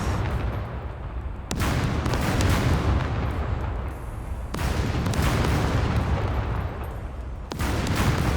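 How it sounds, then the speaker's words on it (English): Heavy gunfire and rocket blasts in the survival shooter SCUM, a dense, loud barrage of booming shots and explosions that rolls on without pause, with sharp fresh bursts striking near 1.5, 4.5 and 7.5 seconds. "they're shooting at everything. I'm gonna quickly... Oh my god, they are actually rocketing everything"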